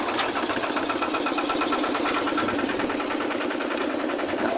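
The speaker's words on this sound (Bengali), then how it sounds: "ইঞ্জিন স্টার্ট দাও।" A fishing boat's engine idles on the Haldi river with a loud, steady, fast-pulsing chug that runs without a break and with no talk over it.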